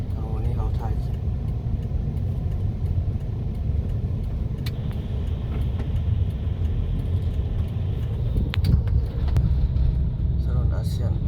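Rush hour traffic fills a road in Vientiane, Laos, heard as a continuous low rumble of car and motorbike engines passing close by, with occasional revving and no breaks in the flow.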